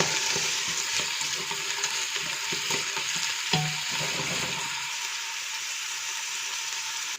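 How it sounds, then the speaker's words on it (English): Onion sautéing in a hot pan for Persian khoresht-e gheymeh, a steady close sizzle with scraping stirs and a sharp clack midway, then settling into quieter frying. "I will add my onion and saute the onion until they are soft and translucent"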